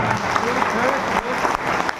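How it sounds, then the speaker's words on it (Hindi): Applause at a foundation-day gathering in India, dense hard clapping from an audience, loud and sustained, with voices mixed in underneath. "उसके लिए बहुत मेहनत से ताली बजाना पड़ता है"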